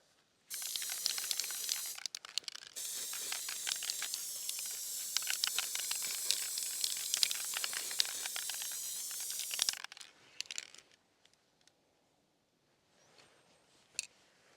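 A spray can sprays matte paint in a raised bed garden, giving a steady close hiss for about nine seconds, then a few short bursts and quiet pauses, with no talking.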